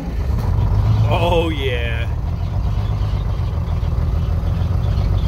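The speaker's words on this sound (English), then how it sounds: "Fires right up, runs like a watch." A CAT 14G motor grader's diesel engine rumbles steadily at idle throughout, a continuous low drone after starting, with a man's brief exclamation over it.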